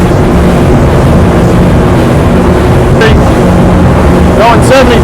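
A 2023 Fountain 38 TE speedboat with triple Mercury 400 V10 outboards cruises at about 72, its steady engine roar blended with heavy wind buffeting across the microphone, with a few brief whooshes near the end.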